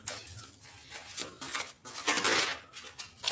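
A tarot card deck is cut and handled, producing close, crisp papery flicks and slaps in irregular bursts, with brief pauses between the louder riffles.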